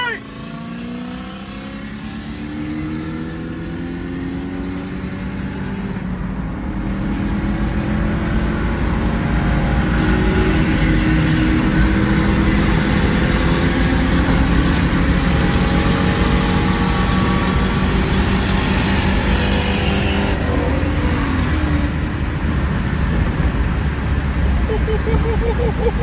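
Ford Mustang SN95 cars roar loudly as they accelerate side by side in a race, engine noise building and holding steady for about twenty-five seconds close to the microphone.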